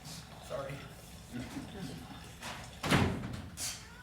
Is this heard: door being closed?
yes